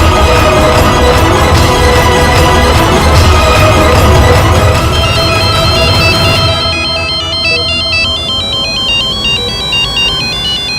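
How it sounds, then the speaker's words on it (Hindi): A phone ringtone plays loudly over music, shifting into a bright, repeating electronic melody in the second half; no voices. "दामाद जी का फोन है।"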